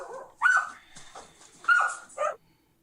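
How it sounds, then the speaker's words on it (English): Dogs barking and whimpering in a house, including a spotted Great Dane–Dalmatian mix, come in two or three close, loud bursts of yelps and barks with softer whining between them, then fall silent. "Damn, we got dogs back here, too."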